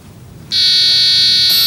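A contestant's buzzer at a National Science and Maths Quiz final sounds suddenly after a brief quiet moment, then holds as a loud, steady, shrill electronic tone.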